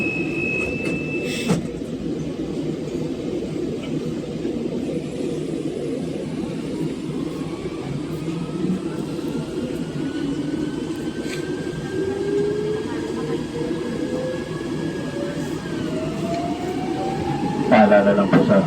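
A metro train runs between stations with a steady rumbling roar, rising and falling motor whine and faint rail hum from inside the carriage, continuous and fairly loud.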